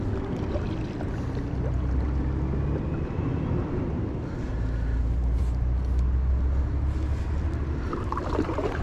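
A truck rumbles past near the Grand River during a paddling trip between Eaton Rapids and Lansing, a steady low engine drone that holds throughout with a faint swell midway, no voices.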